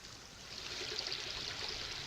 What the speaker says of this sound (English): Maybe you can hear the water gurgling in.